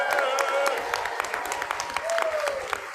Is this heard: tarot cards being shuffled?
no